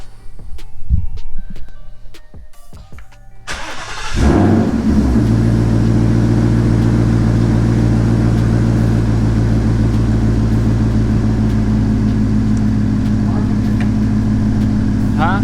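A 2018 Ford Mustang GT fitted with a nitrous system starts with a cranking burst and then settles into a loud, steady, deep engine roar that fills the rest of the clip, heard close with only faint noises before it catches.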